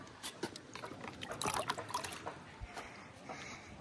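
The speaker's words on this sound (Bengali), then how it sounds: "এইবারে আশা করা যায় নিচে দিয়ে মানে তলা দিয়ে জল বেরোবে সুন্দরভাবে" Water draining out of the bottom of a plant pot in a rooftop garden, soft irregular trickles and drips that swell briefly then thin out, quiet and close.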